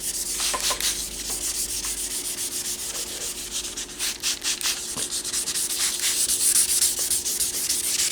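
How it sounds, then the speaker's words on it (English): Steady wet rubbing and scraping of sandpaper over plastic car headlight lens, continuous and close, with rhythmic horizontal back-and-forth strokes and no talking. "we're gonna do a last horizontal sanding."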